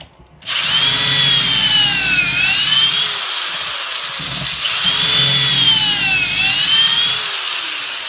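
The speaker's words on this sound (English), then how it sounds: "Drill your 2 holes." A power drill whines loudly through wood in two long bursts, boring pocket holes with a Kreg Jig K4, pitch dipping as the bit bites, with a short pause between them.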